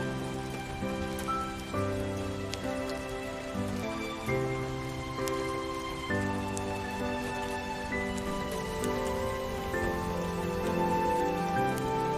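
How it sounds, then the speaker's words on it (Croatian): Steady rain pattering on a surface, continuous throughout, with sustained tones running underneath. "napolju pada kiša"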